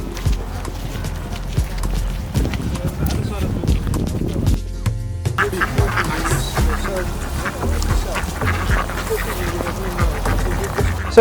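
Ducks quack in a busy outdoor crowd during a morning duck parade near the tasting room of a vineyard, with steady footsteps and people talking throughout.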